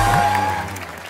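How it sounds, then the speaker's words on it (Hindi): A studio comedy audience on an entertainment show claps in a brief, loud burst over a steady low musical hum, tapering off within a second. "जोरदार तालियां"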